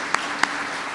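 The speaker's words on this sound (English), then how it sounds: "Round of applause for her." An award ceremony audience claps in a steady, even wash of applause, with two sharper single claps standing out close by above the crowd noise.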